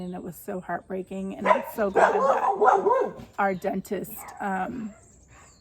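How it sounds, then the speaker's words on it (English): A dog barks repeatedly in the background of a room while someone talks continuously over it. "sorry for the dog barking."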